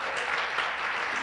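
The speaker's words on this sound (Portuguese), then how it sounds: "Você pode dar uma salva de palmas ao Senhor Jesus?" Audience applause fills a church-style gathering during a sermon, a steady continuous burst of clapping with no talk over it, short and fairly even in loudness.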